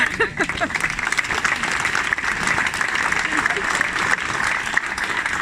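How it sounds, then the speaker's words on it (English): An audience at a mosaic unveiling claps steadily, a dense, even round of applause running the whole length, moderately loud, with some voices mixed in. "It's not quite a Brogue level of applause"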